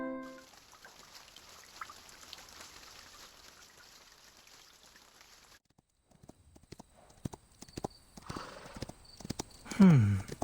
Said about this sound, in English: The white horse prances towards the new steps, matching Perum's pace.